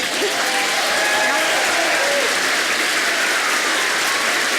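Steady, loud applause from a large audience after a symphony performance, filling the whole stretch without letting up.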